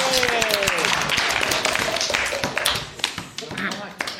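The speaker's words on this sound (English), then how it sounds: "All righty, a round of applause." An audience of JROTC cadets applauds after a student's public speaking talk, brisk clapping that thins out toward the end while voices talk over it.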